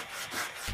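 Sandpaper strip fixed to an aluminium ruler rubbed over the veneer of a wooden Les Paul guitar neck, giving a soft close scraping stroke that ends in a brief louder rasp.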